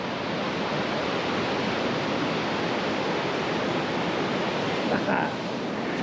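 Steady, loud roar of ocean waves breaking along the beach at Torrey Pines State Park in San Diego, a dense continuous hiss of surf with a faint brief disturbance near the end.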